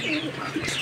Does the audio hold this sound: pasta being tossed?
no